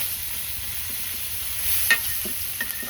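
Fish frying in a pan, a quiet steady sizzle with a few faint clinks and scrapes of stirring toward the end.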